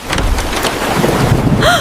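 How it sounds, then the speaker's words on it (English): Heavy rain pours steadily in a thunderstorm, a loud, dense wash of noise with low rumbling and wind buffeting throughout, and no voices. "Just got caught in the rain"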